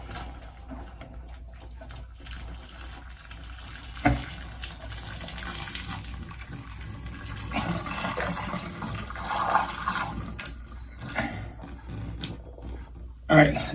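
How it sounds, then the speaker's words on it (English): Boiling hot water poured down a clogged drain after baking soda and vinegar, heard as irregular splashing and gurgling that rises and falls, fairly quiet, with bursts of pouring and someone talking. "Pour hot water down there."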